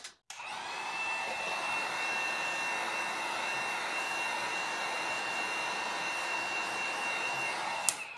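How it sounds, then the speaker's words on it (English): A heat gun blows steadily over a resin tray, a constant close airy whine with a faint tonal hum that holds evenly for about eight seconds with no talking. "You can use your heat gun to give it like a little loose."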